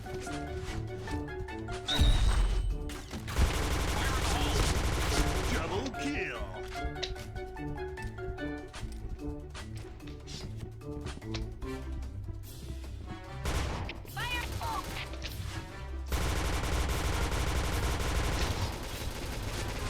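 Rapid gunfire from the Point Blank shooter game on a Thai server, an SC rifle, crackling in dense bursts over continuous game music and effects, with a voice talking throughout.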